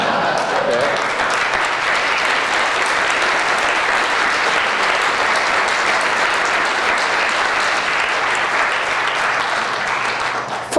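Sustained audience applause fills a lecture hall during a talk about Pope Francis, a dense, steady clapping roar lasting about eleven seconds at full strength before easing slightly at the end.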